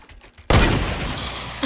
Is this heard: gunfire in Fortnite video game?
yes